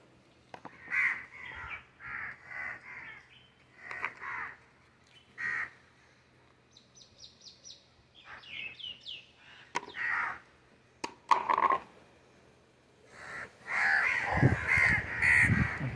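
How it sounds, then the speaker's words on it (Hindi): Crows caw in repeated harsh calls, several birds near and loud in bursts, with a denser flurry of cawing toward the end; no one speaks. "ये हमारे पाले हुए कबूतर कौवे हैं, कौवे"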